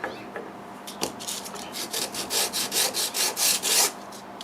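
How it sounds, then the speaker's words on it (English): Small wooden quilting-pattern pieces are rubbed back and forth across 120 grit sandpaper, giving a rhythmic series of close, raspy scratching strokes. A few sparse strokes at first give way to a steady, faster run of about a dozen. "I'll just run them across some 120 grit."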